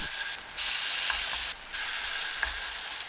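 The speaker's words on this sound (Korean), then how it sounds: "예열되면 중불로 낮추고 반죽을 둥글 납작하게 올려주세요" Lotus root pancake batter fries in an oiled, preheated round pan over medium heat, giving a steady close sizzle with small pops and slight shifts as batter portions go in; no voices.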